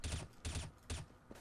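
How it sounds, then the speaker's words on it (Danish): Gunfire from Counter-Strike: Global Offensive sounds as three sharp bursts of rapid shots at a regular rhythm, loud and close, followed by a fainter single crack. "jeg blev skudt"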